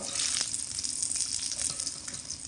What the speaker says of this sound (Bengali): বাদামগুলোকে লো টু মিডিয়াম আঁচে রেখে মোটামুটি 3 থেকে 4 মিনিট মতো এইভাবে নাড়াচাড়া করে ভেজে নিয়েছি।